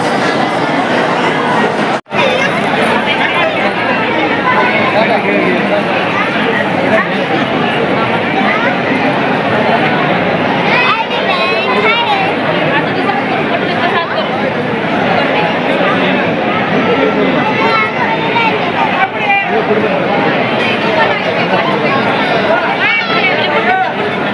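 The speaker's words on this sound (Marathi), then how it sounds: "तसं गर्दी बघा, 8चं टायमिंग झालं आहे तर भरपूर गर्दी आहे" Evening crowd of devotees at Shri Balumama temple in Admapur, a dense, steady hubbub of many voices filling the space, with someone talking over it.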